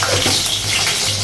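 Green chillies, dried chillies and cardamom fry in hot oil, a steady close-up sizzle and crackle that fills the whole short moment without any voices.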